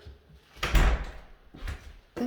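A small interior door inside a house, leading out to a covered back deck, is opened with a few close clunks and rattles of the latch and frame, spread over about two seconds with a final knock at the end.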